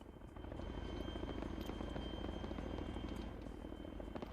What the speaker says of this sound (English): Chinook is now coming to land these two guys.